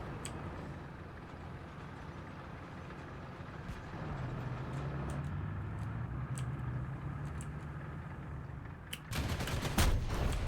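Automatic missiles fire in a video game, a dense rumbling barrage that holds steady for several seconds before sharper, louder bursts break in near the end.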